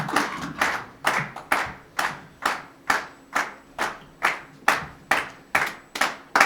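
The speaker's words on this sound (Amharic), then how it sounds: "እንዴት ነው ጭብጨባ ግን ከምሳ በኋላ የሆነ ነገር ሞቅ ይላል አይደል?" An audience at an arts awards and recognition event claps in unison, a rhythmic series of sharp, evenly spaced bursts, loud and close, with no talking over it.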